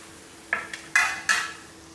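Fried jaggery and wheat-flour puas lifted out of the pan onto a plate: three sharp metallic clinks and scrapes of a utensil against cookware, close and distinct over a faint background hum.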